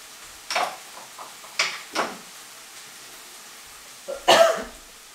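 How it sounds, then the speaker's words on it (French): A person coughs after tasting a peppery quiche-style dish, a few sharp, close coughs spaced out over a few seconds, ending in a harsher double cough, with no talking in between. "Ah, le poivre, moi, ça me fait tousser."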